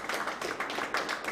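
Brief, light clapping from an audience at a Supreme Pool Series pool event, a quick patter of hands lasting barely over a second.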